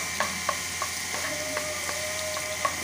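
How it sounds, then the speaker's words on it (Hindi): Garlic frying lightly in a pan for egg fried rice gives a steady low sizzle under regular spatula scrapes and taps, about one every third of a second, close and fairly quiet with no talk. "हल्का सा ही फ्राई करना है"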